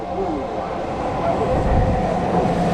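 Tokyu Toyoko, Meguro and Shin-yokohama Line train arriving at the Tamagawa Station platform, a loud steady rumble of wheels and carriages with some clatter, close by.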